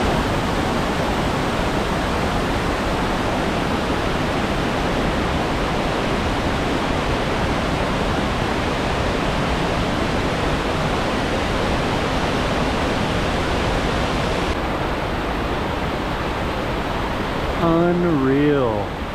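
Waterfall at Coopey Falls or Dry Creek Falls along the Columbia River, a steady roaring rush of falling water heard up close and loud, filling the clip without pause before a short whistling tone near the end.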